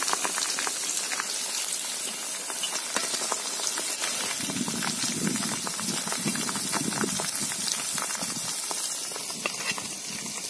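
Steady crackling and sizzling of ivy gourd frying in hot oil, a dense, continuous spatter close up with no talking.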